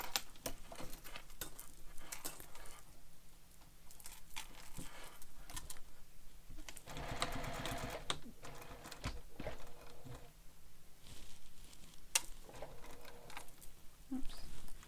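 A sewing machine back-stitches a seam on a bag, running in short mechanical bursts with pauses between them and light handling noises around.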